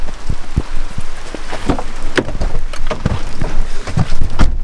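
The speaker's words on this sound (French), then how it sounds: "Il pleut des cordes" Heavy rain falling outdoors in Belgium, a loud steady wash of rainfall with scattered heavy drops and spatters striking close by, no talk.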